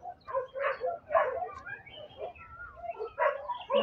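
Several dogs bark outdoors in a hot rural garden at harvest time, a series of short barks and yips at moderate distance with faint background noise, and speech is not clearly evident.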